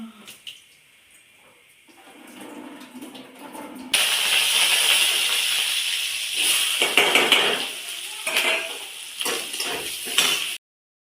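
Cumin, mustard seeds, curry leaves, onion and salt roasting in hot oil in a home kitchen, a loud, steady sizzling hiss that starts suddenly and crackles on for several seconds.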